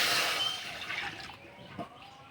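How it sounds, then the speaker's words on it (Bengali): Water splashes briefly into a wok, a close burst of pouring that trails off into drips within a couple of seconds. "গরম জলে একটু ভাপে নেব তার জন্য কড়াই দেবো জল"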